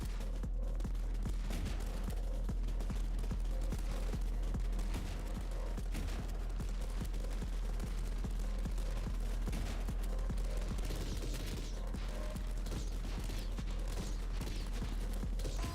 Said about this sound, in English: The laser gun now.